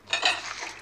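Stirring a pot in the Toca Kitchen 2 cooking game, a short scraping, swishing stroke that swells and fades within a second, heard alone.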